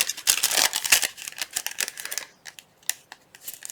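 Scissors snip through paper card for a Christmas card project, a quick run of close, crisp cuts followed by a few sparser snips, with no voices.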